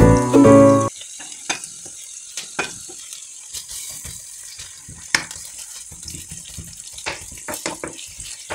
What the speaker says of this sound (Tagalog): Mainit na ang ating mantika. Kaya lagyan na natin yung sibuyas at bawang.